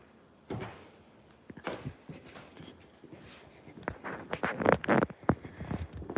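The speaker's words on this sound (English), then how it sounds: "So let's get our drawer box and just do a test fit." A wooden drawer box is test-fitted onto heavy duty drawer slides in a van build, giving a run of knocks, clacks and sliding bumps that grow busier and louder toward the end.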